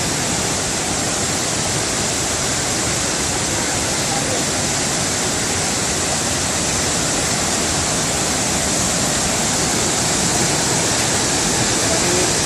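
A powerful waterfall at Khao Yai roars continuously, a loud, dense, unbroken rush of falling water close by.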